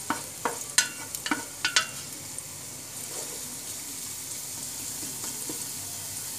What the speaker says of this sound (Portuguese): Deixa nosso alho dourar um pouco.